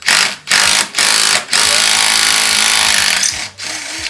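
A DeWalt impact wrench removes bolts on a Jeep during a rock slider install. It rattles loudly and close in several bursts: three short ones, then a long sustained run and a final brief burst.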